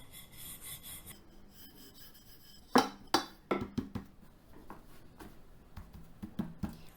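A rolling pin working stuffed aloo palak paratha dough on a board, with a series of sharp knocks and rasping rolls in a loose rhythm, close and fairly clear over quiet background.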